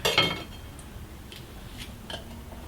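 A knife slices through fresh strawberries for a mini cheesecake topping, opening with a bright clink of the blade against a plate or board, then soft, sparse taps in a quiet kitchen.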